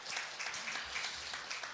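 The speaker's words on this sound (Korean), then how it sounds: "우리를 구원하신 하나님께 박수로 영광 올려드리겠습니다." A church congregation applauds during a Sunday worship service, producing a faint, distant and steady patter of many hands clapping, heard on its own.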